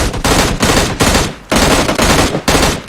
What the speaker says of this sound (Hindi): और फिर उसके बाद बंदे, गाड़ी और सज्जन पुरुष सब पे गोलियां चलाई जाती हैं।